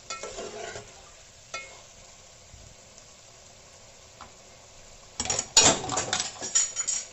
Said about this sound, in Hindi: दो मिनट के लिए इनकी भुनाई करूंगी